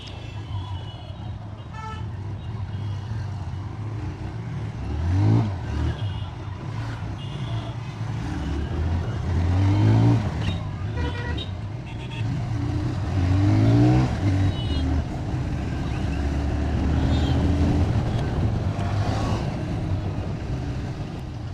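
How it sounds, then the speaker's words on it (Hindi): A TVS Raider 125 ABS, a 125cc motorcycle, pulls away from a showroom in first gear: a steady, close engine hum with several rising revs as it accelerates and shifts. "स्टार्ट हो गई है फर्स्ट गियर और शोरूम से ही लेकर चल रहा हूँ भाई"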